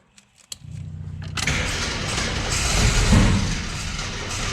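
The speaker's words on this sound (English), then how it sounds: "Just keeps backfiring. I don't think it's in time. It sputters like that, and it doesn't really want to take it and go." An abandoned Jeep with an unhappy carburetor cranks and catches roughly, sputtering loud and close into a rumbling, uneven run that swells and wavers after a few clicks and a thump.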